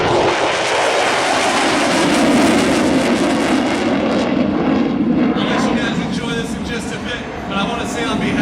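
An airplane roars past loudly at an airshow, a broad sustained engine rush that shifts in tone as it passes.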